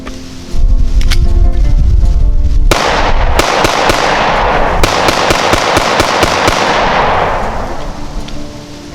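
A pistol loaded with steel-cased ammunition fires a rapid string of sharp, loud reports close by, each shot ringing out over a constant noisy wash that fades toward the end.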